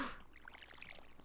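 A watering can sprinkles crops in the Stardew Valley farming game, a short soft splashing trickle of game water sounds, faint and close with no voices.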